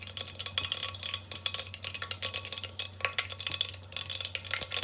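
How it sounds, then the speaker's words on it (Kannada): Mustard seeds crackle in hot oil and ghee for a tempering, a dense run of sharp, irregular pops and spits close by over a low steady hum. "ಸಾಸಿವೆ ಚೆನ್ನಾಗಿ ಸಿಡಿದ್ರೆ ಒಳ್ಳೆ ಘಮ ಬರುತ್ತೆ ಒಗ್ಗರಣೆ"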